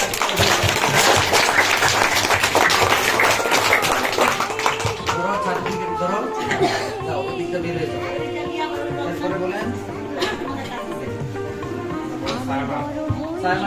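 Clapping fills a room as an audience congratulates a prize winner at a school exam award ceremony, loud sustained applause and crowd chatter that eases into talking voices.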